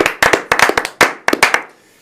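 A few people clap in irregular bursts of sharp, close hand claps in a Korean political broadcast studio, cheering early voters, with about a dozen loud slaps in two seconds and no talk.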